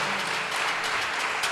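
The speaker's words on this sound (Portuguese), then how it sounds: "Você pode aplaudir ao Senhor?" Church congregation applauding during a Portuguese-language celebration service, a steady wash of clapping that stays at an even level throughout the short stretch.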